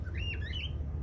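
A caged cockatiel lets out a single short, harsh squawk with a rising and falling pitch, close and fairly loud over a low background hum.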